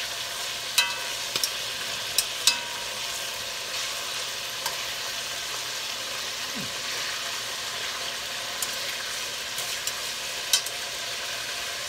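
Beef searing in oil for an old-school stew, a soft steady sizzle with faint hiss and a few sharp utensil clicks in a quiet kitchen, no talking.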